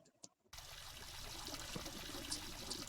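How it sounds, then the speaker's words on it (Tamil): Hands being washed under running water before a meal, a steady broadband pour and splash that starts abruptly after a brief quiet moment and continues evenly, close and moderately loud. "கை கழுவி சாப்பிட்றதுக்கு முன்னாடி"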